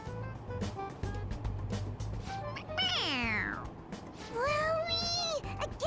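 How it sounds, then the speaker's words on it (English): A toy cat meows when its head is pressed, giving two bright, drawn-out electronic meows close by over low rumbling background noise. "it's just a toy. It meows when you press on its head."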